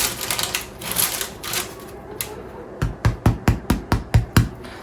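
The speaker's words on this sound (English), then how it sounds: "just going to lift one side up, give it the old tap. You want a hollow sound." A hot, freshly baked no-knead bread loaf lifted and rapped on its underside: eight or so quick, evenly spaced hollow knocks, close and fairly loud, following a stretch of muffled handling noise.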